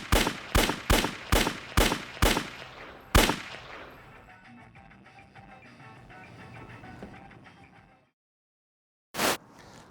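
A rapid string of about seven sharp, loud gunshots in a film store scene, followed by a long fading reverberant tail, a stretch of silence, and one last abrupt bang.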